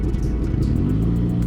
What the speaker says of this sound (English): It's got twin pipes. It's a Boxster 4-cylinder BMW.